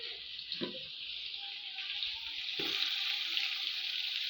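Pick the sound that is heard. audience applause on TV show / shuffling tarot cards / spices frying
spices frying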